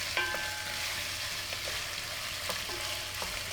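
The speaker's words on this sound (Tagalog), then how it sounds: "Ginigisa ko lang ito kasama ng bawang at sibuyas ng 1 minuto." Boiled, softened beef tripe sautés with garlic and onion, a steady close hiss of frying broken by soft, regular stirring scrapes.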